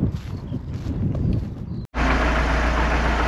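Engine of a Belarus tractor driven across a bumpy field, heard from inside the cab as a steady loud rumble, briefly cut by a sharp break before the drone returns even heavier.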